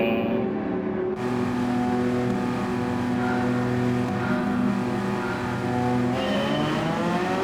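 Race car engines drone loudly off the start line, with a Porsche 992 in the field, their steady high revs building and shifting as the cars accelerate together, close and continuous throughout.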